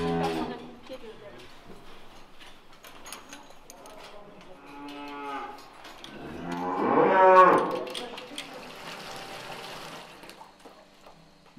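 Cattle moo in a traditional tie-stall barn on a low-carbon farm; several drawn-out lowing calls overlap, swelling to one loud, close moo before fading into barn ambience.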